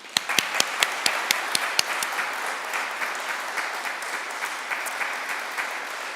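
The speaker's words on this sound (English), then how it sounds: "You can clap now." Audience applause at a poetry fellowship reading, opening with a few sharp individual claps that quickly merge into sustained, even clapping from the crowd.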